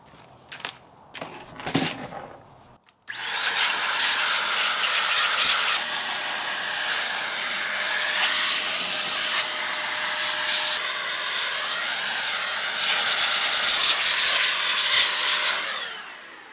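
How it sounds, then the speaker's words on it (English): Compressed air blown through an old gaming PC case outdoors to clear out dust, a steady loud hissing rush that starts abruptly after a few seconds of quiet and holds unbroken for about thirteen seconds. "I think I'm going to take this case outside to blow it down"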